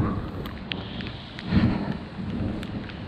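Heavy rain pouring outdoors during a thunderstorm, a dense steady hiss of drops on surfaces with a low rumble of thunder swelling midway, no talk.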